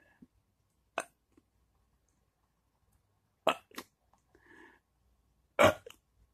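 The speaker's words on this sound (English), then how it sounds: "Acid reflux burp." Acid reflux burps come as three short, abrupt throaty bursts spaced a couple of seconds apart, close and isolated in a quiet room.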